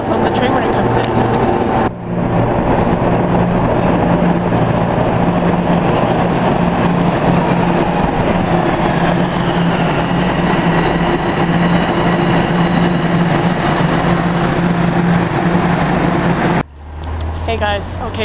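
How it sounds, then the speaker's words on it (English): Toronto subway train pulling into Osgoode Station on the northbound platform, a loud sustained rumble and rail roar that fills most of the stretch, swelling in abruptly and cutting off near the end, with a faint voice underneath. "I'll film the train when it comes in"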